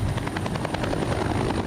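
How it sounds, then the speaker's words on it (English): Helicopter flying close by, a rapid, even chop of rotor blades over a dense engine roar, loud and continuous throughout, with no voices. "hopping on a helicopter and heading to the Range Operations Center"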